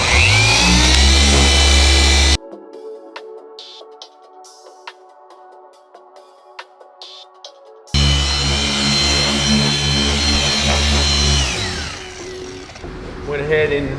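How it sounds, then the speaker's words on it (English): A Rupes Mark III polisher working on car paint gives a steady, loud mechanical whir that stops for several seconds, leaving quiet clicks and handling sounds, then starts up again and runs continuously. "Went ahead and polished out all my sanding marks."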